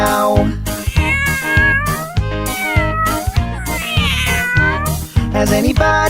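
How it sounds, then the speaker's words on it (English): Repeated cat meows sung or sampled over a loud, steady children's nursery-rhyme backing track, the meows rising and falling in pitch throughout. "The cat goes meow meow."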